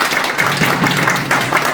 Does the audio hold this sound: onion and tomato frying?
no